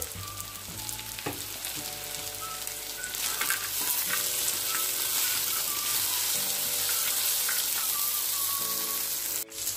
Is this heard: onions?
yes